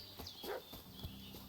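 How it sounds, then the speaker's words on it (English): A dog barking in the medieval role-playing game Kingdom Come: Deliverance II, with a few faint, scattered barks over a quiet village ambience and what sounds like horse hooves in the background. "What's that dog making such a fuss about?"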